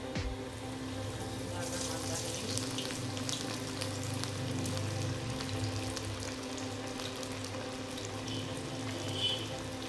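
A piece of fish fries in hot oil in a home kitchen, giving a steady, moderate sizzle and bubbling that runs throughout at a fairly quiet level, with faint background hum and no clear speech.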